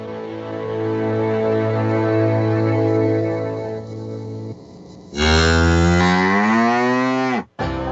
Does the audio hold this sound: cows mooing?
yes